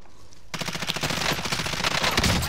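Rapid automatic gunfire in the video game Call of Duty: Modern Warfare, a dense burst of shots beginning abruptly and continuing for a couple of seconds, loud and close.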